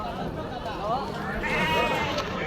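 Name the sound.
goats bleating at Kadiri goat and sheep market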